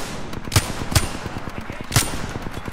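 Several sharp gunshots crack out in a shooting match in the video game Apex Legends, three loud reports at irregular intervals over a busy background of lighter clicks and movement.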